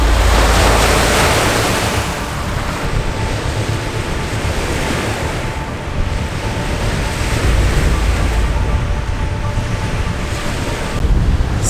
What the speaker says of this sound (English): So it's ridiculously windy here in Wanaka